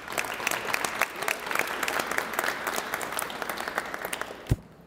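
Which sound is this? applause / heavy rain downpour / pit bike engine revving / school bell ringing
applause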